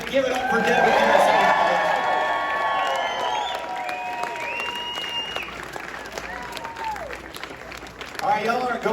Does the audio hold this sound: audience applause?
yes